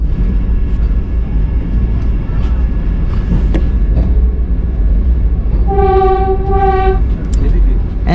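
Vande Bharat Express pulling into New Jalpaiguri station, a loud continuous rumble of rolling coaches with a rising two-tone horn sounding twice near the end, while a voice talks over it.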